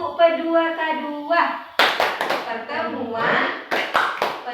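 A group of women does a rhythmic clapping chant, sharp hand claps landing in quick patterned bursts between and under a voice leading the call, close and lively.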